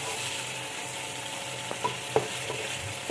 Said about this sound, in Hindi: ये चिकन थोड़ा फ्राई हो जाएगा